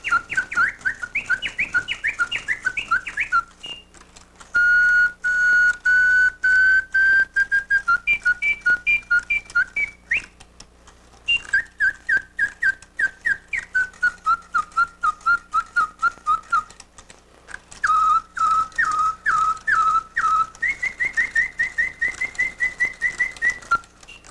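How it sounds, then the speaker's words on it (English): Bright, warbling bellows-blown whistle of a clockwork automaton in repeated birdlike phrases, trilling and sliding in pitch, with short pauses between bursts and faint clicking underneath. "It starts off with a clockwork motor, and there's a bellows to blow the whistle."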